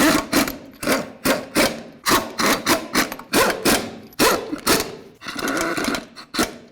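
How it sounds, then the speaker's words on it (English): Wheel lug nuts on a 2005–2015 Toyota Tacoma are run down with a power tool in a quick series of loud, close, rhythmic bursts separated by short pauses. "Let's go ahead and bottom out all the lug nuts."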